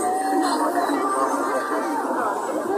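Dense crowd chatter fills the Senbag night fair in Noakhali, a steady babble of many voices with no single speaker standing out.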